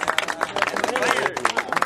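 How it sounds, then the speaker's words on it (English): An audience at a memorial service claps in a round of applause mixed with cheering voices and crowd chatter, the clapping uneven and busy under the vocal noise. "And let's give yourselves a round of applause"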